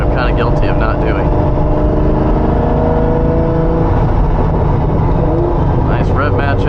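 A Lamborghini Diablo's engine drones steadily from inside the cabin, with shifting harmonics as it revs and climbs through the gears, a continuous loud rumble running the whole time while a person talks over it.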